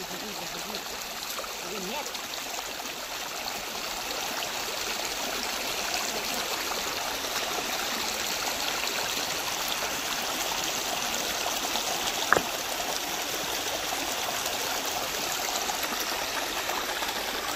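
Irrigation water runs steadily into a sugarcane field, a continuous outdoor flowing and trickling wash with one brief knock near the end, and a voice speaks over it at times.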